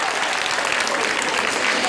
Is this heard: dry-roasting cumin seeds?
no